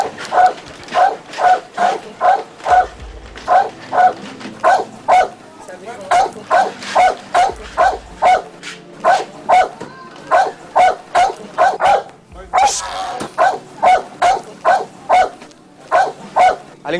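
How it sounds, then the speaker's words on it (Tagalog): A pet dog barks nonstop in a neighbourhood before dawn: loud, close barks repeating in a steady, rapid rhythm for the whole stretch, with only a couple of brief pauses. "Kanina pa ho tahol ng tahol eh."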